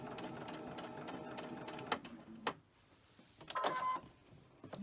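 A sewing machine stitches a quilt house block in quick, buzzing runs of needle strokes. It stops briefly in a quiet gap, then starts again for a short burst, close and moderately soft.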